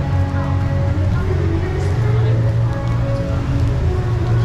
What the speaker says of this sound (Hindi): बारिश बहुत हो रही है, जाए कैसे वहाँ पर।